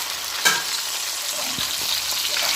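Fish frying in hot oil, a steady close sizzle with a few louder pops and spatters over its short length.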